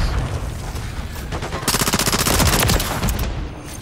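Rapid automatic gunfire in a first-person shooter game, a dense continuous rattle of shots that grows louder and faster midway, close and loud with no break.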